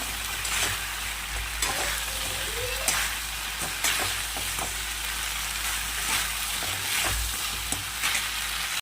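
Balls frying in a pan of oil with a steady, close sizzle, stirred now and then with faint scraping touches over the bubbling hiss.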